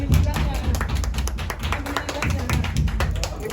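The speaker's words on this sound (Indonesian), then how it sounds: "Tepuk tangan dong." Several people clap hands in a loud, close, irregular patter at a gathering of Indonesians in Jeddah, Saudi Arabia, with crowd chatter and voices mixed throughout.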